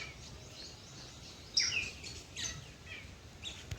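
Parrots calling at Rajkot zoo, bright chirps and squawks rising over steady outdoor background noise, with a louder burst of calls midway and scattered calls after.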